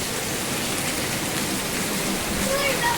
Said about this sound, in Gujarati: આવ્યો ને જો નેવાની ધાર કહેવાય કેટલી થાય છે,